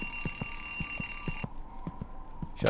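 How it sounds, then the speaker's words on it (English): An alarm clock goes off in the indie horror video game Dark Veer, a sustained high electronic ringing with rhythmic low knocking pulses beneath, cutting off halfway through before a final clatter; quiet and close, with no talking. "the alarm's gonna be the next thing to go off"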